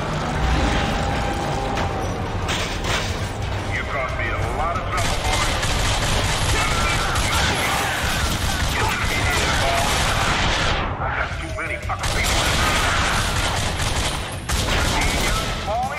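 Shotgun gunfire in The Darkness video game: dense, continuous volleys of shots and clattering mechanisms fill the whole stretch, loud and close, with a voice talking underneath.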